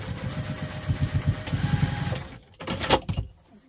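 Sewing machine running in quick rhythmic bursts while stitching a crossbody bag with lining, followed by a brief sharp clatter near the end; close and fairly loud.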